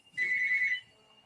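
A phone rings once with a single steady electronic tone, clear but not loud against a quiet background, then stops sharply.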